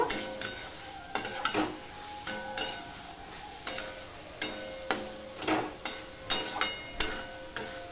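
Masala with Kashmiri chilli powder for a prawn curry is sautéed in a pan, a steady sizzle broken by repeated rhythmic scraping strokes of a spoon stirring and scraping the pan, close and fairly loud.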